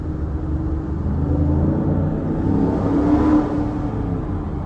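A car engine revs while accelerating, a low rumbling drone that swells to a brief peak and then settles, heard from inside the car with no speech.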